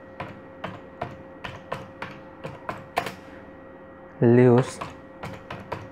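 Keys on a computer keyboard click one at a time in a slow, steady rhythm, close and crisp, while someone briefly says a word partway through.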